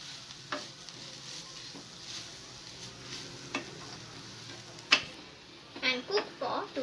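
A spoon stirs soybean momo stuffing in a pan, with soft scraping and a few sharp clinks against the pan that grow busier toward the end, alongside a faint background hiss.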